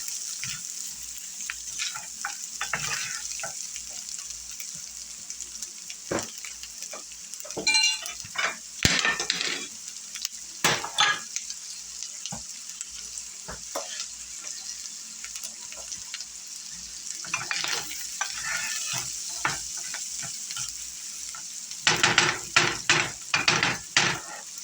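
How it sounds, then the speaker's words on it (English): Butter melting in a pan for hamburger gravy, a faint, steady sizzle underneath scattered utensil clinks and scrapes, with busier clatter bursts toward the end. "So just letting that butter completely melt."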